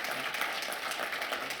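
An audience at a Dartmouth Geisel School of Medicine event applauds in a steady wash of many hands clapping, moderately loud and even throughout.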